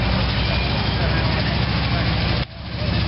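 A Jeep CJ5 fitted with a Cherry Bomb glass pack exhaust rumbles loudly with a deep, throaty idle at a mud bog, dipping briefly before building again.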